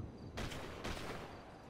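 Rifle volley at a funeral in the GTA 5 video game, two sharp bursts of gunfire about half a second apart, faint and distant, with no talk.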